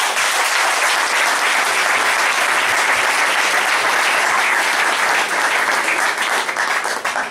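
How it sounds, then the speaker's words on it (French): A church congregation breaks into loud, sustained applause acclaiming the Lord, a dense wall of clapping that runs steadily throughout without pause and fades only slightly at the very end. "Acclamons le Seigneur."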